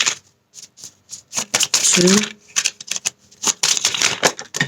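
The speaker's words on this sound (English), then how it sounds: "3 more shuffles." A tarot deck is shuffled close up in quick, crisp bursts of riffling and card slaps, and a voice speaks briefly among them.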